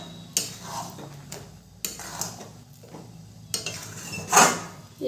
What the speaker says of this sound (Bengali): 2 মিনিট পর আবারও আমি ঢাকনাটা তুলে নেব